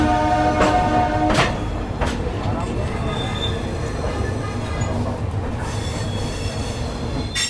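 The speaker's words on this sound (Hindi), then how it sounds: "अपनी युवा एक्सप्रेस फर्स्ट एलएचबी रन के साथ निकल चुके दिल्ली के हजरत निजामुद्दीन से ऑन टाइम शाम के 4:30" A Yuva Express train with LHB coaches departs Hazrat Nizamuddin station in Delhi, its wheels giving a loud, continuous rumble with sharp squeals and rhythmic clacks.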